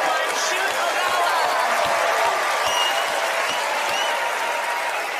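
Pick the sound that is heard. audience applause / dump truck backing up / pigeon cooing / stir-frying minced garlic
audience applause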